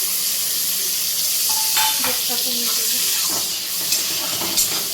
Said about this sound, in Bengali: কাজু বাদাম কিশমিশ খুব ভাজা ভাজা হয়ে যাচ্ছে